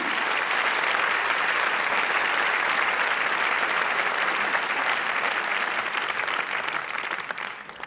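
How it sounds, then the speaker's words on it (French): A comedy theatre audience in Paris gives sustained, even applause after a stand-up sketch, a thick wash of many hands clapping at steady loudness that tapers slightly at the very end. "Applaudissements du public"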